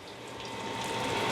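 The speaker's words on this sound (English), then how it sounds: "It should bubble, make that crackling sound." A Russian piroshki dumpling fries in hot oil, giving a continuous bubbling sizzle that grows slightly louder over a brief moment, with no voices.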